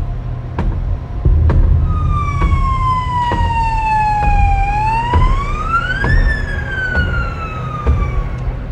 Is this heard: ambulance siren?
yes